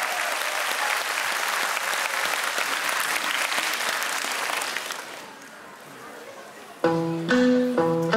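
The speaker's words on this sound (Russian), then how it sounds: "Встречайте бурными аплодисментами!" Audience at a dance school New Year show breaks into dense, sustained applause for about five seconds, then fades as a musical track with a bright melody begins.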